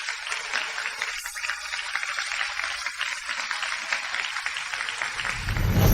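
Applause from a wedding gathering for two couples about to marry, a dense steady wash of clapping that swells louder toward the end with a low rumble coming in.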